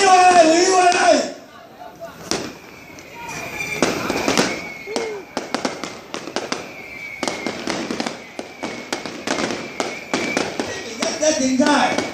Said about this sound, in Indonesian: Mercon.